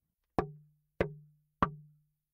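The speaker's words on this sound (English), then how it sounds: "Knocks." Three sharp knocks on a hollow surface, evenly spaced and close, each with a short resonant thud that dies away before the next.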